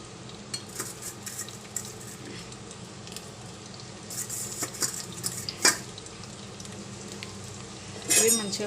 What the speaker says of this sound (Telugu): ఈ ఆనియన్స్ ఫ్రై చేసుకోవడానికి ఆనియన్స్ ఇందులో వేసుకుంటున్నాను నేను